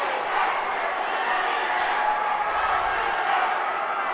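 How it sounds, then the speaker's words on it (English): Collegiate 3D archery nationals crowd cheering for competing teams, a continuous roar of many voices at moderate distance, with close commentary over it. "the cheering has absolutely gone through the roof here"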